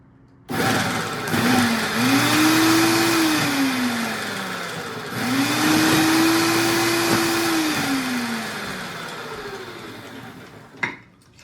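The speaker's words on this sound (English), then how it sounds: "Okay, so let's pulse again." A food processor pulses an energy ball mixture in two long runs, the motor whining up and holding steady before winding down, loud and close with no talk over it.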